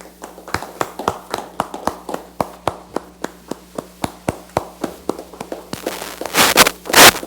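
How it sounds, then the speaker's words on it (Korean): An audience at a Democratic Party event welcomes retired General Kim Byung-joo with loud, steady rhythmic clapping in unison, then breaks into a swelling burst of applause. "여러분 큰 박수로 맞아주시기 바랍니다"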